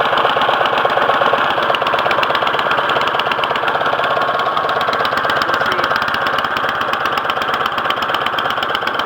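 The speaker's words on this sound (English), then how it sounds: "I'm gonna let it run on the choke for a little bit." An MTD 179cc small engine running on choke, a loud close rapid chugging putter with a steady rhythmic pulse throughout, no talking.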